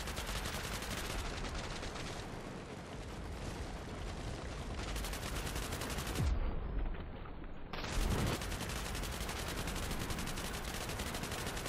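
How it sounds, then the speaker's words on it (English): Light machine gun fire rattles nonstop in the video game Cepheus Protocol, a dense, loud, continuous automatic stream with booming impacts mixed in, close and overwhelming, with no voices heard. "that LMG is shredding him"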